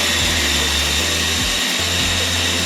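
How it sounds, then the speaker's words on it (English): Food processor chopping rolled oats into a finer texture, a loud, dense motor whir that runs in short bursts with brief pauses and restarts over a couple of seconds. "we're simply going to process these up a little bit in the food processor"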